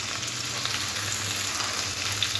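Chickpeas and potatoes fry together in a pan with a steady, even sizzle close by, lightly stirred throughout the short stretch, with no talking.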